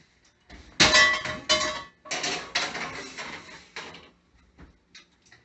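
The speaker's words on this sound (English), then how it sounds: "So we'll put these guys in the oven on their sheet pan." A metal sheet pan of salmon slides into an oven, giving a clattering metallic scrape and clang, followed by softer knocks and a final rattle as the rack settles.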